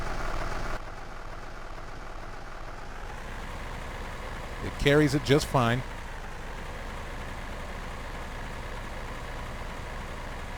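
A Massey Ferguson 698 tractor engine idles steadily in the background, a low continuous rumble while someone speaks briefly over it.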